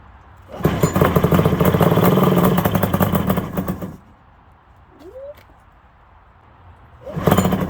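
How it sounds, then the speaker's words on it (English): A ZRT 600 triple engine, sitting unused for years, catches and runs loud and rough for about three seconds, then cuts out. It sputters briefly and fires up again at the very end. "I'm pretty sure first startup, this thing's going to be smokier than Tony Stewart after he wins."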